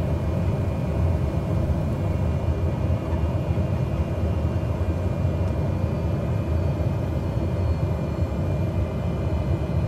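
A Cessna 208 Caravan turboprop in Microsoft Flight Simulator drones steadily with the throttle pulled back, a continuous low engine rumble filling the cabin on approach into Furnace Creek, with no talk.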